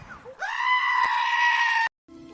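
A goat gives one loud, close, sustained bleat with a strained, wavering tone that cuts off abruptly, followed by a brief gap and a faint higher tone.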